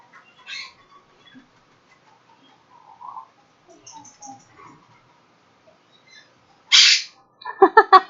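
A pet bird in a quiet room gives soft scattered chirps and squeaks, then a loud squawk followed by a quick run of sharp, rhythmic calls close by.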